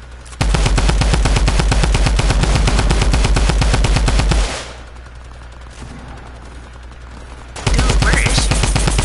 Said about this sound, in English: Who are y'all shooting at?